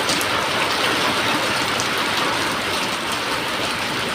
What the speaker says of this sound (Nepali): ठुलो पानी परिरहेको ठुलो पानी